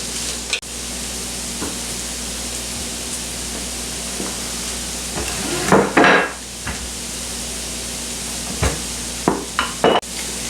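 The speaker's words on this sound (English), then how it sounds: "You're going to want to let that saute for about 8 minutes." Minced garlic and vegetables sauteing in a pan for a ham pot pie, a steady close sizzle with a few sharp clatters and scrapes of a utensil against the pan.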